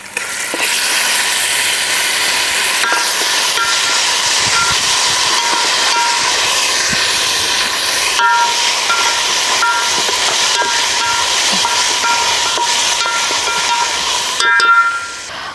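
Ginger garlic paste fries in a pan of oil for gongura chicken in a farmhouse kitchen, giving a steady, loud, continuous sizzle with occasional clicks and scrapes throughout, no voices.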